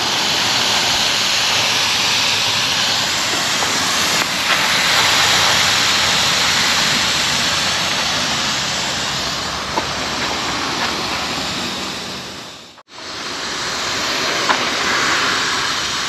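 Loud, continuous steam hiss and boiling coolant rush from the hose of an overheated car, a close, steady broadband spray that cuts out abruptly for a moment near the end before resuming.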